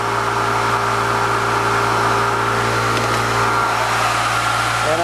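Steady, continuous hum of the ETS prototype engine holding at 3,400 RPM, with constant tonal whine and broadband noise at an even level throughout, no voices.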